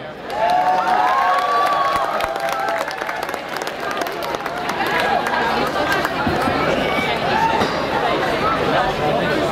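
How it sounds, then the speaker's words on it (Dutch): A large crowd at an outdoor beach festival claps and cheers continuously for a performer, with whoops and chatter mixed into the steady roar of applause. "Mag ik een daverend applaus voor Tijmeer?"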